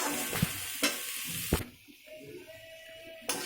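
Lentil bori and drumstick flowers frying in a pan, a soft sizzle broken by several sharp scrapes and clatters of stirring, with a brief hum in the background.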